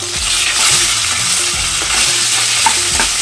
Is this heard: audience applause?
no